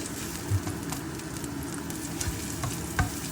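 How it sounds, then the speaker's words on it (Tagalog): Garlic and onions sautéing in a frying pan for Filipino sotanghon guisado, giving a steady sizzle with a few louder stirring knocks and scrapes; no talking. "ginigisa na natin ang bawang at ang onions"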